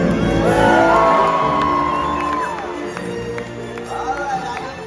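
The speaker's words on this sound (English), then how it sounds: "When we see her, give her a great big cheer!" A crowd at a SeaWorld Orlando killer whale show breaks into loud, sustained cheers, whoops and shouts. The noise swells early, eases slightly past the midpoint, then rises again near the end.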